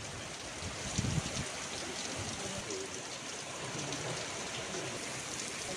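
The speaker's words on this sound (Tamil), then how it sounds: "திடீரென கருமேகங்கள் சூழ்ந்து கனமழை பெய்தது" Heavy rain falls steadily during a sudden summer downpour under dark clouds, a soft continuous hiss of drops on surfaces, fairly faint and even throughout.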